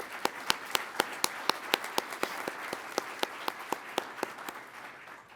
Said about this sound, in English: A round of applause for our maintainers